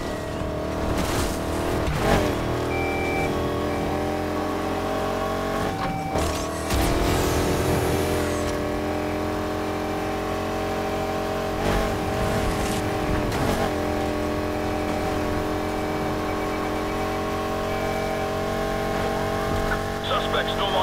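A 1965 Mustang races in Need for Speed Heat, its steady engine drone running continuously with brief surges and possible tire noise, under music and police radio chatter with voices talking.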